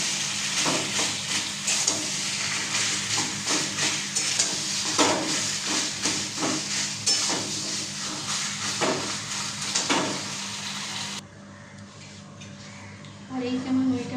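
Shrimp heads fry and get stirred in a pan, a steady crackling sizzle punctuated by scraping spoon strokes against the metal, close and fairly loud, before dropping away near the end.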